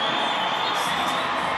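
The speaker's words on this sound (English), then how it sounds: "Crowd getting loud." An indoor soccer arena crowd at a professional match swells into a loud, continuous roar of cheering and shouting, filling the space without a break.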